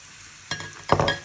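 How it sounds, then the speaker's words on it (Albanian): Meat added to a hot pan of browned onion and garlic, hissing in two short bursts of clinks and sizzle after a quiet start, close and fairly loud with no voices. "Shikojmë që qepa tashmë ka marrë ngjyrën e saj më të skuqur, lëshojmë dhe mishin tonë"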